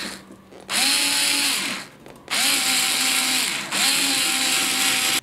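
Power drill driving screws through a shelf into a cardboard box, three loud, close bursts of whirring motor that rise and fall in pitch, with short gaps between them.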